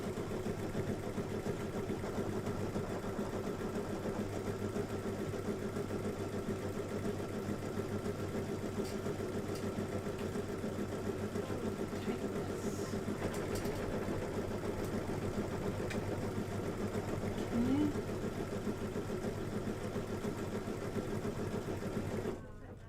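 An embroidery machine stitching an outline on a pillow runs in a steady, rapid mechanical whir throughout, close and continuous, with faint talk underneath.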